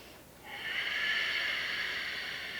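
A long, steady breath taken during a yoga session for runners, heard close up as a soft airy hiss that swells after a brief quiet start and holds for a couple of seconds alone.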